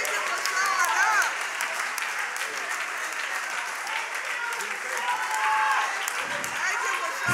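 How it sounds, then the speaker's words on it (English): Audience at a church service breaking into sustained applause that fills the space, steady dense clapping with a few cheers and voices mixed in. "How about you give him a round of applause"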